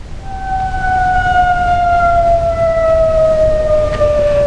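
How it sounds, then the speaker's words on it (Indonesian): Warning siren wailing in Jordan at night during an Iranian missile attack, a loud steady tone slowly falling in pitch, sounding alone without speech. "Sirine peringatan pun kembali meraung di Yordania."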